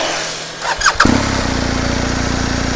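A BMW R1250 GS boxer twin motorcycle engine cranks over and fires up, then settles into a steady, loud, close idle with an even low thrum.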